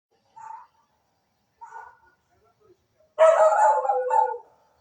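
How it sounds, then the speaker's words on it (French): A dog barks at neighbours passing by, with two faint, distant yaps followed by a louder, longer burst of barking that stands alone. "Le chien dérange, c'est parce qu'il y a des voisins qui passent."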